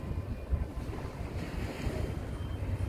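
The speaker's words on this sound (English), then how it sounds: "that's the wind, the wind of Lisbon" Outdoor wind in Lisbon buffeting the microphone, a steady low rumble with gusty swells throughout, loud and close, with no voices.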